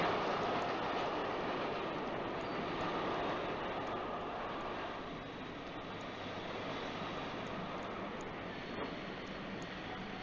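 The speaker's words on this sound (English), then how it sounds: "Your famous ghost train is running into the siding." A steady, broad rumble of a train rolling along rails as it runs into a siding fills the whole stretch, even and continuous with no voices.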